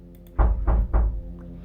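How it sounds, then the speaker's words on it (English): Three firm knocks on a front door, heavy and evenly spaced thuds, loud and close in an otherwise quiet room. "there was a knock at my front door."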